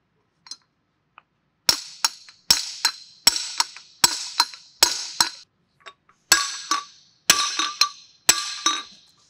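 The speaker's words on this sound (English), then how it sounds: "we'll go through the same process we did putting your spacer on with your bearing driver and your steel hammer" A steel hammer striking a bearing driver to press-fit a bearing while rebuilding a Masport HXL series vacuum pump: a quick run of about a dozen sharp metallic taps, close and loud, with a few short pauses and no talk.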